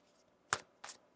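Tarot cards being shuffled in a quiet room, with three brief, soft riffling bursts spaced apart.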